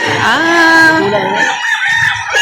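A White Kelso rooster crows once, loud and close, in a long rising then falling call at a busy chicken market in Lipa City, Batangas, with clucking and background noise after it.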